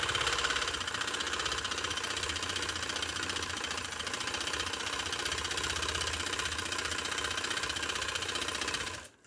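A sewing machine stitching trouser fabric runs in a steady, continuous mechanical whir with a fast repetitive needle rhythm, stopping abruptly at the end.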